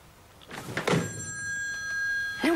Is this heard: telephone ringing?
yes